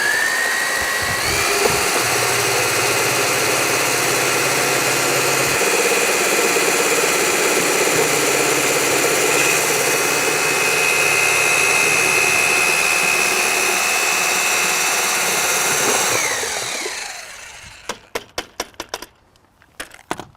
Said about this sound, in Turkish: çok hızlı bir matkapla değil küçük bir matkapla iyice malzeme karıştırıldıktan sonra